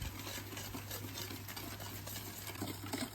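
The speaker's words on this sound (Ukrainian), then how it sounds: "Цю всю масу нам потрібно дуже добре перемішати, щоб не було грудочок" Sugar, starch and eggs whisked in a bowl, a soft continuous scraping and swishing close by, quiet under a steady low electrical hum.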